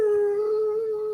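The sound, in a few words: dog howling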